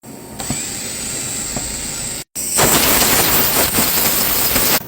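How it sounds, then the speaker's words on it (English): Power drill running steadily with a 1/16 bit, enlarging a small hole during a rear main seal job on a Chevy Equinox; a continuous high whine with a brief cutout midway before resuming louder. "16th drill bit and enlarge that hole."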